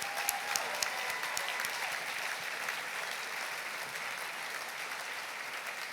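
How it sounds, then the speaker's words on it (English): Sustained applause from a large crowd, a thick, even roar of clapping heard from a slight distance, with a few sharp individual claps standing out early. "give you a thunderous round of applause for your accomplishment"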